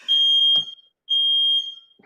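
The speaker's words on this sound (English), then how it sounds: "They're testing my fire alarm in my building and it's so annoying." Fire alarm going off during a test in a building, sounding two loud, piercing electronic tones about half a second each, separated by a short gap, with a brief thump between them and no talking.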